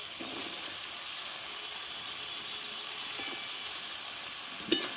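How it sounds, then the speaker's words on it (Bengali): Drumsticks (sajne data) frying with masala in a pan, a steady close hiss of sizzling oil with a couple of faint scrapes and one sharp knock near the end. "এই মশলার সঙ্গে ভালোভাবে একটু কষে নেবো আমি"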